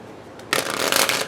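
A deck of Goddess Oracle cards is shuffled up close, a soft riffling flutter lasting under a second after a brief quiet moment.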